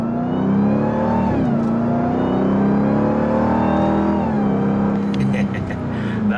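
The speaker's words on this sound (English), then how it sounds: "Listen to the one of that supercharger." Supercharger whine from a Dodge Durango Hellcat SUV at half throttle, a loud rising engine howl with a high supercharger tone, shifting pitch through quick gear changes, close and steady throughout.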